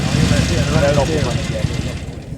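Italian motorcycle engine running close by at a vintage bike show, a steady low rumble with a harmonic whine that holds, then fades away near the end as it is switched off.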